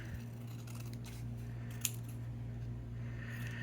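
Scissors snip through card stock during card making, a quiet single cut with a small sharp click amid a steady low electrical hum and room noise.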